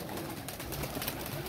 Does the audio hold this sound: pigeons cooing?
yes